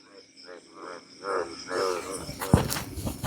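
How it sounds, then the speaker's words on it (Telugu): Frogs croak at night in a paddy field during a camping stay guarding rice seedlings, giving repeated pulsed calls in an irregular chorus, with a brief thud and other night sounds later on. "ఇక కప్పలు అరుస్తూ ఉండే"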